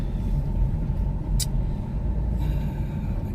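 Steady low rumble inside a car while driving, road and engine drone filling the cabin evenly throughout, with one brief high tick partway in and no talking.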